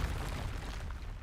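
A Confringo spell explodes in Hogwarts Legacy, a brief, loud, rumbling blast with a dense, roaring body that fills about a second.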